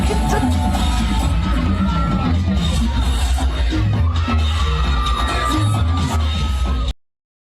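A crowd cheers and yells at a high school cheerleading performance, loud and steady throughout, with whoops and raised voices over a busy babble before it cuts off abruptly.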